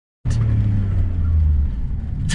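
A 2.5 liter Mazda V6 in a car at a car meet bursts into a loud, rumbling rev that holds strong and steady, then eases slightly.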